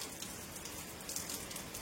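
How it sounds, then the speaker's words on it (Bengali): Steady rain falling and pattering on surfaces at a home during a storm, a dense continuous hiss with occasional gusts of wind swelling through it, no voices. "কত বৃষ্টি পড়ছে, দেখো হাওয়া দিল"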